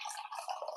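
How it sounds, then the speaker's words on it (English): Coffee trickles into a cup in a brief, faint, close pour with a bubbly, splashy texture. "That's just coffee pouring"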